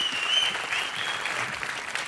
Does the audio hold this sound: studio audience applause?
yes